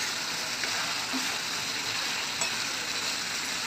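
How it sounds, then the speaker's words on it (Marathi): Vegetables fry in a pan as sambar masala is stirred in. A steady, close sizzle with a faint scraping texture runs throughout, with no talking. "2 चम्मच सांबार मसाला घेतला, तो टाकून देऊ। छान प्रकारे फिरवून घेऊया।"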